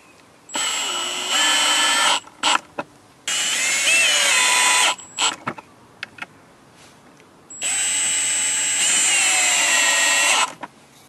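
A power drill drives screws into an angle-bracket mount on a DIY electric longboard, with washers on each side; three sustained whirring runs of a couple of seconds each, separated by short clicks and pauses, close and loud.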